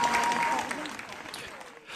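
A crowd at a political gathering applauds, a fairly faint wash of clapping that fades toward the end, with a brief voice at the start.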